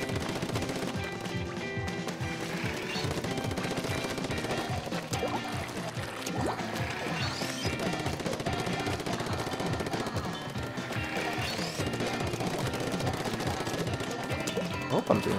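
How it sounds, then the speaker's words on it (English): A splatling gun firing in Splatoon on the Wii U during a Turf War match, a long rapid stream of wet, splashy shots with spraying ink over game sounds, moderately loud and continuous. "It's a splatling gun."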